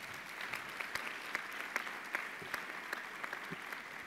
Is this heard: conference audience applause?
yes